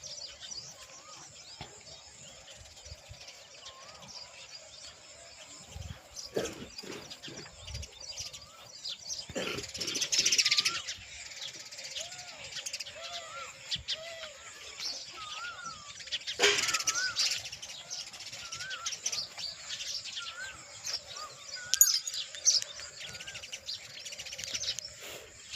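Sparrows chirp around a water trough set out for them, their small repeated tweets fairly faint and scattered over a steady background, with a few louder bursts of activity.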